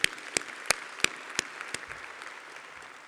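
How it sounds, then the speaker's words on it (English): A handful of sharp, evenly spaced claps from an audience at a business awards ceremony, fairly quiet and distant, that quickly thin out and fade away. "I would just like to give probably a round of applause to Shiv, Shaveler, and the Dhol army"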